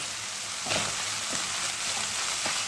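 Tantuni meat fries in a pan with salt and red pepper while being stirred, making a close, steady sizzle broken by a few soft stirring scrapes. No talking.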